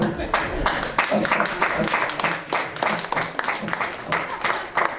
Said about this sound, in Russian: Что хлопаете?